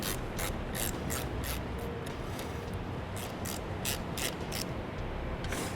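A ratchet wrench backs a stud off during a Firestone dual electric air compressor install, giving repeated quick clicking bursts in an uneven rhythm, close and fairly loud, with no talking.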